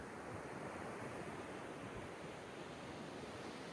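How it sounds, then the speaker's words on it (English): Ocean waves washing onto a beach, a steady broad rushing hiss without clear breaks, moderately loud and continuous, no voices. "I'm going to enjoy the ocean with you guys for a second"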